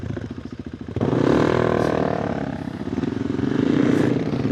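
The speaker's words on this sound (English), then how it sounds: "let's ride with Saksham, who has a very loud motor wing exhaust on his bike." A KTM 390 Adventure R motorcycle fitted with a loud aftermarket exhaust, a close, rough engine drone that rises sharply after a short lower-pitched pulsing start and then holds steady with slight swells, with no talk over it.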